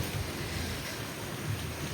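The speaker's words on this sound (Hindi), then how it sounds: "ये देखो भाई, बारिश हो रही है, कितनी ज्यादा बारिश हो रही" Heavy rain pours outdoors in a steady, dense hiss, with low rumbling swells that resemble distant thunder. The sound is continuous and fairly soft, with no voices.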